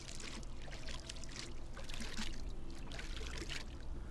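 Water splashes and pours continuously in the survival game Reign of Kings as a player collects it, a steady soft sloshing and trickling texture with no talk over it.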